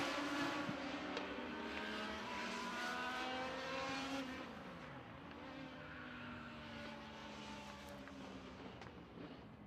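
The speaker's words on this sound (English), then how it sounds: "Final time down the back straightaway for Nick Galata in the 77." A race car runs the back straightaway at Midvale Speedway during the Fall Classic, its engine a loud, steady roar with rising and falling pitch sweeps as it passes.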